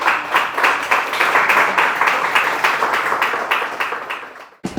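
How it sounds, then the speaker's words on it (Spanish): A church congregation claps in strong, rhythmic unison, loud and close, with steady beats continuing for several seconds before breaking off abruptly near the end. "Fuerte aplauso al Rey de Reyes y Señor de Señores."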